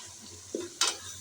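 Green onion tops stir-fried in spice masala, a low steady sizzle broken by one soft scrape and then a brief louder hiss as the pan is stirred, close and short.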